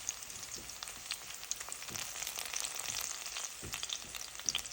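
Onions caramelizing in a pan, giving a steady close sizzle and crackle with occasional soft stirring thuds and no voices.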